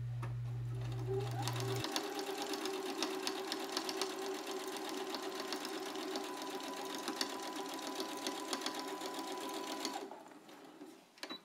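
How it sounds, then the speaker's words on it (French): A sewing machine runs a seam on a jacket in one continuous close, steady whirring burst lasting several seconds before stopping. "On réalise une couture à 1 cm du bord."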